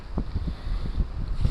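Strong wind sweeps across a frozen lake during spring ice fishing in foul weather with snow pellets, a steady low roar with buffeting gusts pressing close on the microphone.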